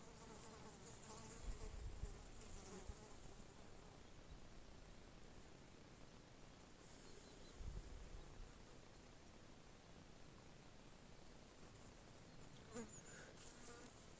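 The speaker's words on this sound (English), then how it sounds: "This time of the year, the flies, they love to buzz around." Houseflies buzz around outdoors, a faint, steady drone with a few slightly louder passes as they fly close.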